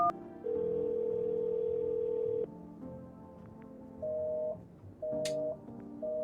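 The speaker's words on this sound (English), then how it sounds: "I wonder what happens when we call the neighbor." In the video game No, I'm Not A Human, a telephone gives a steady dial tone, then cuts off and gives way to a series of short, repeated electronic tones as a call is placed.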